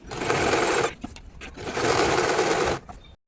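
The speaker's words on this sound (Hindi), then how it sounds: "इस पर एक बड़े बखे की सिलाई लगा लेंगे, धागा एक्स्ट्रा रख के, और बड़े बखे की सिलाई लगाएंगे।" Sewing machine running a long, wide basting stitch along a seam on frock suit fabric, two sustained bursts of steady whirring separated by a short pause, loud and close with no talking.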